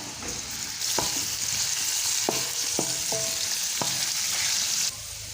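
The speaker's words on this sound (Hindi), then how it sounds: "2 से 3 मिनट मैं इसको फ्राई करूँगा" Steady sizzling and crackling of onions frying in a pan until lightly browned, with a few sharp clinks of a utensil stirring partway through.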